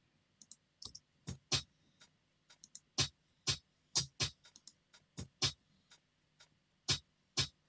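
Crisp, bright hi-hat ticks in a skipping, syncopated offbeat pattern from an electronic dance remix, some strokes louder than others, played alone with quiet gaps between hits.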